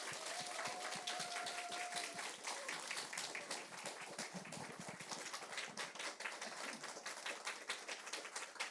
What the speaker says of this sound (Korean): 우리 주님의 사랑 안에서 박수로 우리 환영하겠습니다